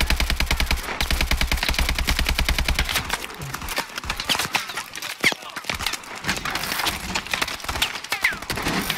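Rapid automatic gunfire in the Call of Duty: Advanced Warfare campaign: dense, rattling bursts of shots that run almost continuously and loudly for the whole stretch, with no talk over them.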